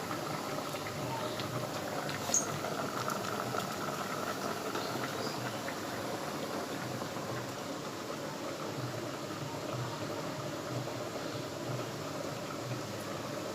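A cooking pot simmering after cumin and bay leaves go in, a faint, steady bubbling hiss that holds evenly throughout with no talk.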